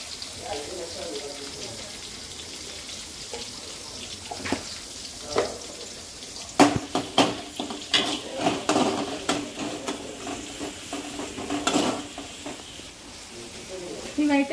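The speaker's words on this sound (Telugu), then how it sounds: "ఇవైతే ఒక 2 మినిట్స్ అలా వేయించుకోవాలండి" Vegetables frying in a pan with a little salt for okra (bendakaya) curry, a steady soft sizzle with scattered stirring clatters toward the end and a voice talking over it.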